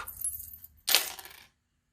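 Hoodoo charms cast onto a surface, a short metallic jingle followed by a sharp clattering scatter of small metal pieces that settles within half a second, close and crisp before silence.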